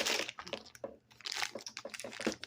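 A plastic bag holding a set of metal dice crinkles and crackles as it is pulled open, with bursts of rustling coming in short irregular clusters, close up and fairly quiet, and no talking.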